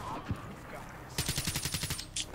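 Gunfire in the shooter Call of Duty: Black Ops 3: after a single early shot comes a fast, close burst of about eight rhythmic rounds, with speech around it.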